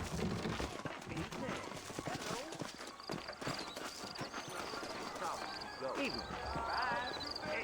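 Horse hooves clip-clop in Red Dead Redemption, with a brief neigh toward the end, under game dialogue and ambient sound, fairly faint overall.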